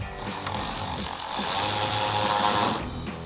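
A power driver with a 7mm socket running a fender flare trim screw into a 2014-2018 Chevrolet Silverado 1500, giving a loud, steady whirring buzz that swells slightly midway and cuts off near the end.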